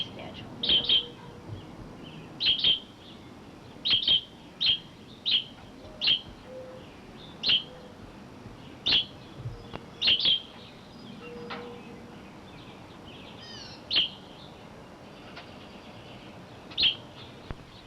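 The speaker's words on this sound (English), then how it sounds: "our new family of birds, we're not sure what schedule they're on" A family of birds chirping with sharp, high single chirps and short doubled calls scattered irregularly over quiet background, fairly close but soft.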